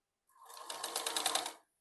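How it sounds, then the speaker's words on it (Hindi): A sewing machine runs briefly and close up while stitching net lace onto a kurti bodice and gathers, a fast rattling burst of needle strokes that fades in and stops, with no talk. "बीच में एक सिलाई मारूंगी"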